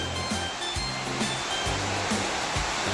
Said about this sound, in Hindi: तो इधर से ये सरस्वती नदी है ना, आप देख सकते हैं कितनी भयंकर आ रखी है